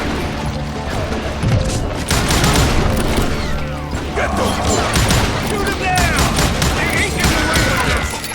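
Gunfire in the Call of Juarez Gunslinger video game, a dense, loud, continuous barrage of shots and impacts with someone talking over it.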